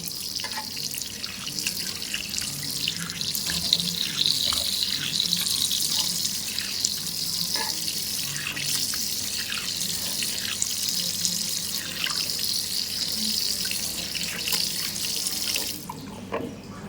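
Tap water runs steadily into a washbasin being rinsed after cleaning, a continuous close splashing with a few drips, cutting off just before the end.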